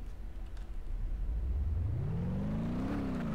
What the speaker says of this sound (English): It's got a few engines, including a supercharged V8.